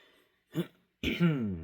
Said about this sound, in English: I was just clearing my fucking throat